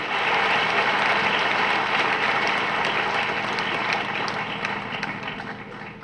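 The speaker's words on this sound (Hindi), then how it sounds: "ये जो तालियां बज रही है ना" Audience clapping during a Jain religious sermon by Acharya Vidyasagar Ji Maharaj at Ramtek, a dense steady wash of many hands that holds strong and slowly fades toward the end, no talk over it.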